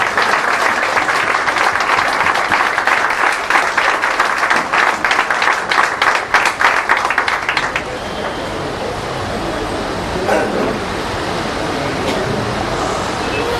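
An audience claps loudly and steadily for about eight seconds, then the applause stops and a quieter room murmur with some talk follows.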